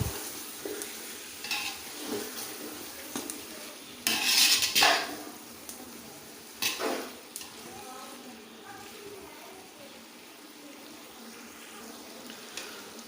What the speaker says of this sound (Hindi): इसको अच्छी तरह से भून लेते हैं।